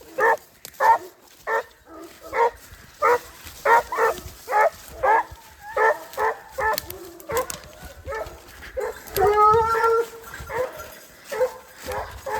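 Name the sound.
hunting dogs baying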